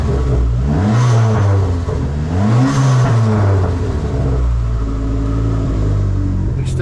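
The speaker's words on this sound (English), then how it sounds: "Everything's revving the way that it should" A Dodge Neon SRT-4 engine revs up and down repeatedly, its pitch climbing and falling in a steady rhythm over a constant close, loud idle rumble.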